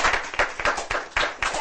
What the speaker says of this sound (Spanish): Aplaudamos al padre.